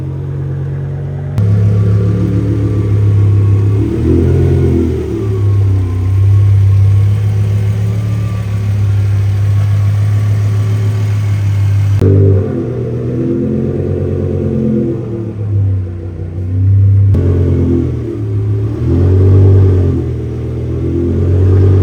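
BMW E60 M5 with a tuned V10 running on a dyno, loud and close, its engine droning and rising through revs in long pulls with a couple of abrupt cutbacks between runs.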